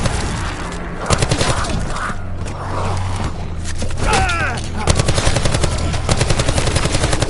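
Rapid automatic gunfire in the video game Call of Duty Black Ops, loud and continuous bursts of shots with dense repeated cracks, a brief whistling tone midway, and steady rattling fire through the end.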